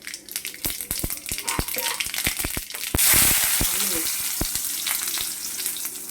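Mustard seeds crackle and sizzle in hot oil as the base for an egg fry, with dense popping and spitting throughout and a louder burst of sizzle midway, close and continuous.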